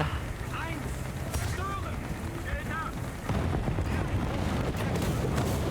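Artillery shells land during a War Thunder tank battle with a Leopard I, giving dull rumbling impacts and a heavier broadband burst midway, under a steady game din and a voice talking.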